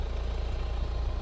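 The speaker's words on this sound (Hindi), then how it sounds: "ये सुनिए गाड़ी की इंजन का साउंड" A Mahindra XUV700 AX7L AWD with over 1 lakh km idles steadily, a low continuous engine rumble with even pulsing, close by and moderately loud, with no talk over it.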